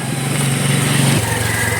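A motorcycle engine runs loud and steady nearby, with a droning pitch that shifts partway through, no talking over it.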